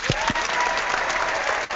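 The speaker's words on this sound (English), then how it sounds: "if I was prepared, I'd have the applause thing going" A canned applause sound effect played on a live stream, a short burst of crowd clapping and cheering, fairly quiet and compressed, ending abruptly.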